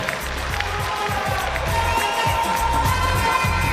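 Audience at a student intellectual contest pageant cheering and clapping, a loud continuous crowd roar with rhythmic thumping underneath throughout.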